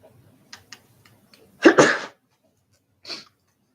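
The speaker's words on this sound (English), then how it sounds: "Sorry, I had to sneeze." A single loud sneeze bursts out near the mic, preceded by a few soft clicks and small noises, followed by a brief sniff or exhale.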